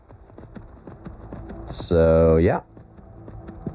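Horse hooves clip-clop across the plains of Whiterun in Skyrim, a soft, steady patter under a voice, with a brief loud harmonic burst like a whinny in the middle.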